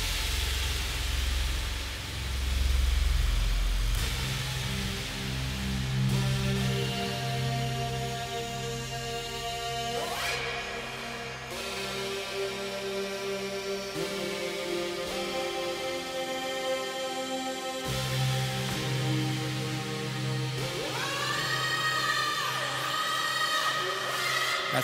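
A Sugar Bytes Factory synth on an iPad plays with its octaves lowered, producing sustained, harmonically rich tones that shift over time, with rising pitch sweeps and layered notes that change in texture every few seconds.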